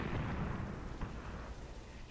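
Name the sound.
mortar and machine gun fire in video game Graviteam Tactics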